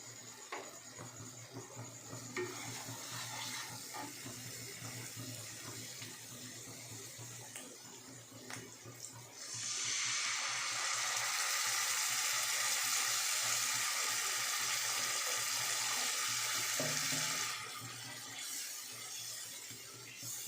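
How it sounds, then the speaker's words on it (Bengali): Water pours steadily for several seconds into a pan of sizzling spice paste for a pomfret fish curry, a loud even rush that starts abruptly midway and then stops, with faint frying crackle around it. "এবার এতে পরিমাণ মতো জল দিয়ে দেবো।"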